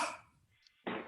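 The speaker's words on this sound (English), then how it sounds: "I'm sorry, just one cough." A single sharp human cough from a nearby person, short and loud, followed by a brief quiet gap and another burst of throat noise.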